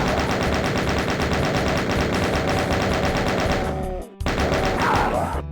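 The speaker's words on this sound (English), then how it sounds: "we have a whole bunch of bullets we can just lay into these guys here" Continuous rapid gunfire in Doom 2, a dense, loud, unbroken stream of shots that briefly cuts out near the end before resuming.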